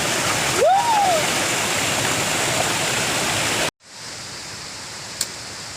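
A waterfall pours in a natural outdoor setting with a constant loud, hissing rush of falling water. The roar cuts off abruptly, then resumes a little quieter.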